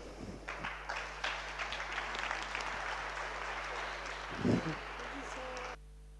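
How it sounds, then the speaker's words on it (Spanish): Audience applause for a speaker at a plenary session on innovation in a conference hall, steady dense clapping for several seconds with a brief louder burst before it cuts off abruptly. "vamos a darle a Neon un gran aplauso."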